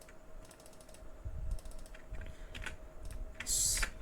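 JavaScript code is typed on a computer keyboard in quick uneven bursts of crisp clicking keystrokes, close up and fairly quiet, with no talking.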